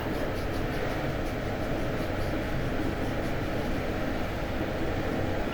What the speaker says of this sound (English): they made this MP36PH-3C, which is pushing this Southbound MARC Penn line train